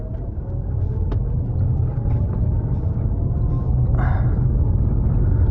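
A Mitsubishi Outlander PHEV pulls uphill from a standstill at full throttle, a deep steady rumble with a faint rising electric whine heard from inside the cabin.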